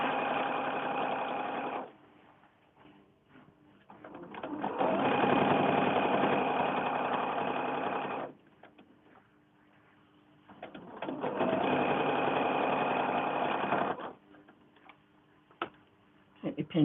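A sewing machine stitches quilt pieces for a mini quilt from 4-inch swap blocks, running in three steady bursts with quiet pauses between them, close and loud with no talking.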